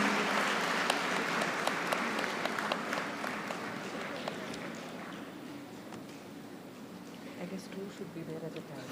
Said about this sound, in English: Let the applause continue, please.